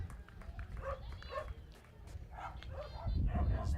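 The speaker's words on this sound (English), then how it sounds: "we have the VPCC dogs in the background" Dogs bark and yip in the background at an outdoor girls' under-18 cricket match, a few short calls scattered through the clip while a commentator talks over them.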